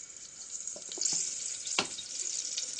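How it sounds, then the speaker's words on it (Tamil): Mustard seeds spluttering in hot oil for rice and lentil dish, a faint steady sizzle with a few brief pops and crackles scattered over a few seconds. "கடுகு பொறிஞ்சிருச்சு"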